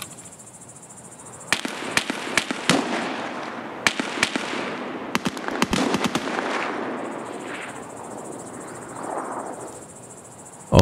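Gunfire in the Escape From Tarkov video game: scattered sharp shots, some in quick bursts, crack out over a steady chirping insect-like ambience.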